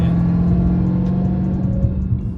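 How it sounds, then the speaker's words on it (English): A Dodge Challenger Hellcat Widebody's engine rumbles loudly and steadily at close range with a deep, continuous drone and no speech. "So it's super loud from the outside of the car."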